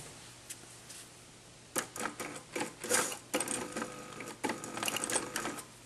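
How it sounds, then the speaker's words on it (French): A sewing machine runs a zigzag stitch down the middle of elastic on a reversible skirt, in several short close bursts of rapid mechanical chatter separated by brief pauses, with no talking. "on va coudre par un zigzag au milieu de l'élastique"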